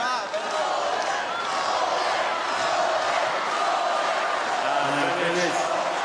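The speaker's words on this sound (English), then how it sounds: "Many in the crowd murmuring." A large tennis crowd murmurs at the Australian Open men's final, a dense, steady wash of many voices filling the arena without any single clear shout.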